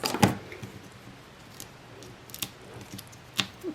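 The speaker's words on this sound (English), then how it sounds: "I'm just snapping this with my scissors" Scissors snip through paper while a Valentine's card is being made, giving a few faint, separate cuts close by against a quiet background, with no talking.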